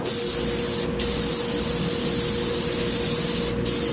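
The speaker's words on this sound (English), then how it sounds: "let's see how this sprays" Paasche Talon TG3F airbrush fitted with a 0.6 mm tip spraying paint, a steady close broadband hiss lasting the whole time, with two brief sharp bursts of air, and no talking.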